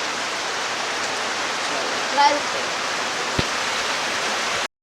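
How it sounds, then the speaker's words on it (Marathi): Steady broadband hiss of heavy rain pouring continuously, with a brief faint knock partway through. "हा बघू शकता पाऊस"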